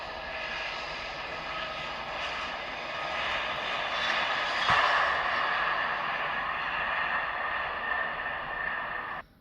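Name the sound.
toy airplane playset taking off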